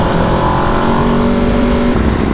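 A 2024 Aprilia RSV4 1100 Factory sportbike engine at high revs, a loud, steady, harsh roar with a sustained tone throughout, close by and heard alone.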